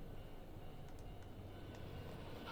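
In the video game Spirit Hunter NG, a far-off train gives a low, steady rumble with a few faint clanks on top, quiet and continuous, with no voices.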